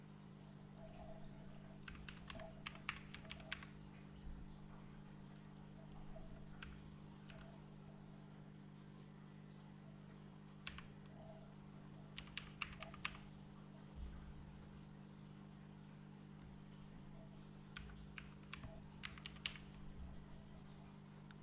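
Passwords are typed on a computer keyboard in short, quiet bursts of clicking keystrokes, with pauses between them, over a steady low electrical hum.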